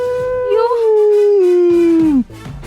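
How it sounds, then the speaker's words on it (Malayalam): A dog howls in one long, loud, sustained wail that slides slowly downward in pitch before breaking off, followed by faint background noise. "ഇന്നിപ്പോ പട്ടി ഓരി ഇടുന്നതായിട്ട് തോന്നിയില്ലേ?"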